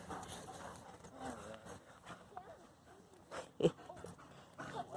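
Dogs moving about close by, with soft panting, snuffling and a brief sharp yelp, under quiet background noise.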